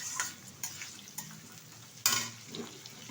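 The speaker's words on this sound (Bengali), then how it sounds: "এখন দিয়ে দেবো এর মধ্যে কিছুটা মটরশুঁটি, এটা দিয়েও নাড়াচাড়া করে নেব।" Peas being stirred into paneer fried rice in a hot pan, with a soft sizzle and scattered scraping clinks of the spatula, one louder stir near the middle, no voices.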